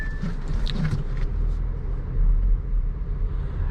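A 2018 Audi A4 S-Line reversing into a parking spot, a steady low engine rumble with a slight swell midway, heard from inside the car, with brief light clicks early on and no talking.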